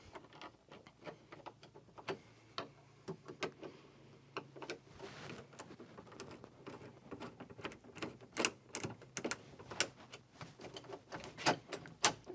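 Screws are tightened into a Kwikset exterior door knob lock set by hand, giving a run of small, close clicks and ticks that grow denser and louder toward the end, with no talking.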